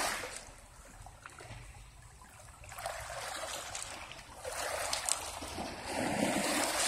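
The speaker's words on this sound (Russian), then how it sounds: "Чудесное чистое море." Sea waves on an empty winter beach at Loo, Sochi, a soft continuous wash of surf that swells louder in the second half, rather faint and distant with no voices.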